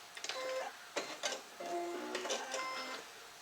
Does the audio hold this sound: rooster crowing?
no